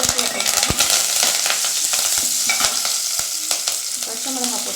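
Onion, green chili and curry leaves frying in a pan for sambar, a loud continuous sizzle with repeated spoon stirring clinks and scrapes, no speech.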